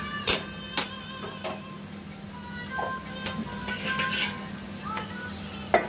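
Potatoes are sautéed with spices in a pan for a jackfruit and prawn dish. A spatula scrapes and clicks against the metal in sharp strokes over a steady low sizzle.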